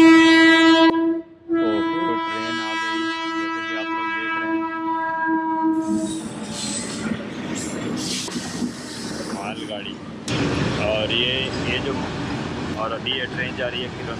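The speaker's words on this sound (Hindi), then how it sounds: "train train train" A train heading toward Kirandul sounds a long, loud horn, then rolls past close by with a steady, heavy rumble and clatter of wagons. Voices can be heard over the passing cars.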